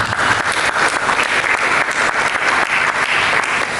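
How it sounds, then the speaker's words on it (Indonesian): A church congregation claps in loud, dense, continuous applause, close and steady for the whole stretch with no talking over it. "Mari kita berikan tepuk tangan."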